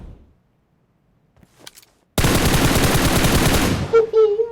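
An M249 machine gun fires in PUBG Mobile: near-silence, then a loud, sustained rapid burst of about two seconds that cuts off sharply, followed by a few faint trailing sounds.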